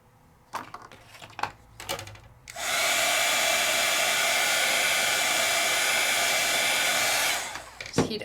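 A craft heat tool blows steadily for about five seconds, drying Jacquard ink on a die-cut project, a loud even whir that starts and stops abruptly, bracketed by light tapping and handling noises.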